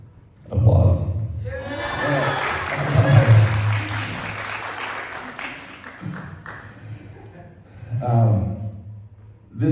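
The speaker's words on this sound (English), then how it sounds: "Applause." Audience applause following a poem at a poetry contest winners' reading and open mic, a sustained wash of clapping lasting several seconds with voices and low murmurs mixed in, tapering off before a speaker resumes.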